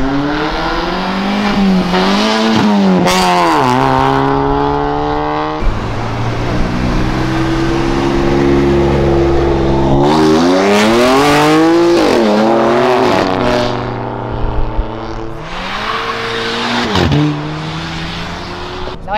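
A loud turbocharged BMW engine revs and climbs repeatedly in rising and falling sweeps, close by, with tire squeal as it drifts out, and no talking.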